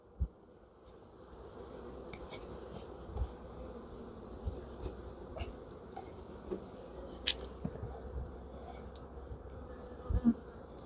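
Bees hum and buzz steadily around a hive during a Formic Pro varroa mite treatment, close and fairly quiet, with occasional soft clicks and knocks of equipment.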